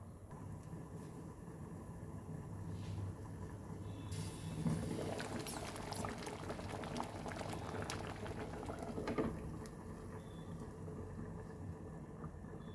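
Goan drumstick curry, made without oil, bubbles in a covered pot with a steady, close burble. A fuller surge of boiling swells in the middle before settling back.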